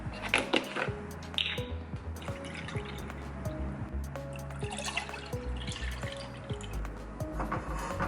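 Liquid is poured and drips into a cup while a matcha latte is made, with a trickling fill, scattered light drips and small clinks of kitchenware, fairly quiet and close.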